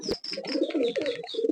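Pakistani high-flyer pigeons give a brief burst of soft, throaty cooing close by, with a few overlapping calls and no talking.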